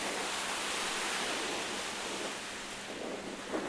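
Lake waves wash steadily onto a beach at Duluth, a continuous broad hiss of surf with wind noise over the microphone, fairly soft and unbroken, with no voices.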